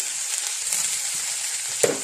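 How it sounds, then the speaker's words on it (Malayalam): Crushed ginger, garlic, dried chilies and shallots hitting hot oil after mustard seeds for a bottle gourd stir-fry, giving a steady, close hiss of frying with a sharper sizzling flare near the end. "ഇഞ്ചി, വെളുത്തുള്ളി, വറ്റൽമുളക്, കൊച്ചുള്ളി ഇതെല്ലാം കൂടെ ഇതിനകത്തോട്ട് ഇട്ട് കൊടുക്കാം."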